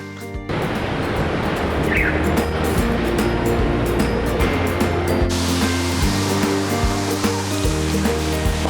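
Sea waves wash onto Tung Wan beach on Cheung Chau, Hong Kong, a loud continuous roar of surf with a low rumble of wind or traffic and no speech.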